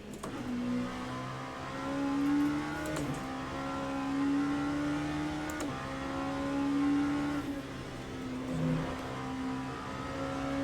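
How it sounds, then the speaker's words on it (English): Race car engine from a Le Mans racing video game drones at moderate level, repeatedly climbing in pitch through the gears with brief dips at each shift. "The car sound soothes me."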